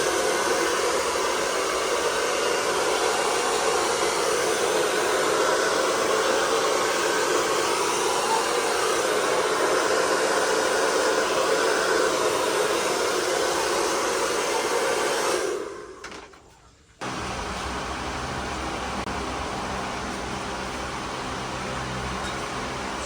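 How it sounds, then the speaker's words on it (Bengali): A hair dryer blows steadily and loudly on a client's hair after a zero fade haircut, a constant broad whoosh that cuts off abruptly near the end and is followed by quieter room noise. "ড্রায়ার করে ফ্রেশ করে ছেড়ে দাও"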